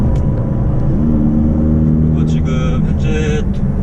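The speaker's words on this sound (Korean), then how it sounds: "한 2500rpm 정도가 넘어가면은 뒤쪽에서 배기가 사운드가 열리면서" A Ferrari 488 GTB running on the hilly Inje Speedium track, its engine and exhaust a loud continuous drone close up, with a rising raspier tone near the end.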